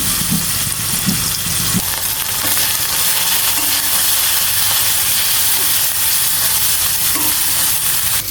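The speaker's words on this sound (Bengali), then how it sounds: "বেটে রাখা আদা রসুন পেঁয়াজ এগুলো দিয়ে দিচ্ছি, ভালো করে নেড়ে চেড়ে নেব, একটু কষিয়ে নেব" Ground ginger, garlic and onion paste fries in hot oil in a village kitchen while being stirred, giving a loud, steady close-up sizzle and hiss with a few scraping stirs early on.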